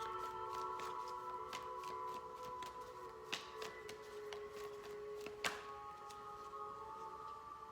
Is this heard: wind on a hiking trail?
no